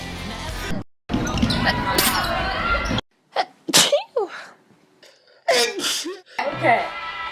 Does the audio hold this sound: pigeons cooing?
no